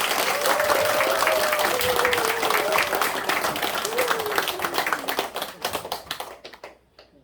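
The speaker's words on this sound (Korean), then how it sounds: "박수 한번 쳐주시면 안 될까요?" A church worship concert audience claps warmly and steadily, dense applause holding for several seconds before fading out, with a voice briefly audible underneath.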